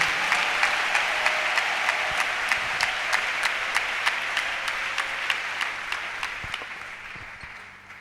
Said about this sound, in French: Acclamons, acclamons, acclamons très bien le Seigneur.